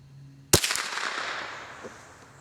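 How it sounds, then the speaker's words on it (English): A single sharp crack from a .22 rifle firing Sellier & Bellot Club ammunition through a clean barrel at a target, loud and close, followed by a decaying echo and a faint distant report of impact. "Here's the first shot at the top target."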